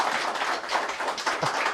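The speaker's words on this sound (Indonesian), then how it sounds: "Tepuk tangan dong." Studio audience clapping during a televised discussion program, a brief burst of many hands at moderate loudness, steady throughout without talk.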